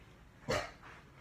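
A single short dog bark, fairly faint and distant, followed by a softer trailing sound.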